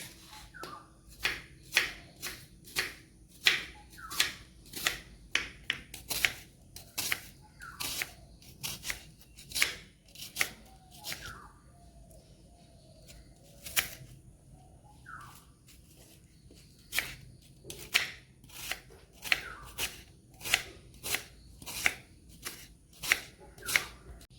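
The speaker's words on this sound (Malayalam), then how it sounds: "ഒരു വലിയ ഉള്ളി കഴുകിയെടുത്ത് നമുക്ക് അത് അരിഞ്ഞെടുക്കാം" A knife chops a large onion and three small green chillies on a cutting board, with quick, crisp, close strikes in steady bursts and a brief pause partway through. No one speaks.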